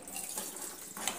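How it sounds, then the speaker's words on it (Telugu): Hot water poured into a pot of cooking dal with bachali greens and raw mango, a short steady liquid splash lasting about a second, close and fairly soft. "ఆ నీళ్ళు కొద్దిగా పోసుకుందాం."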